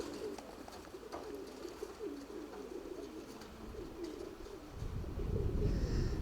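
Pigeons coo in soft, repeated throaty phrases, fairly close, over a steady low background hum that grows louder near the end.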